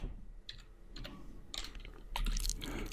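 Keys click on a computer keyboard in short irregular bursts of taps, fairly faint and close, with a quiet room between strokes and no talk.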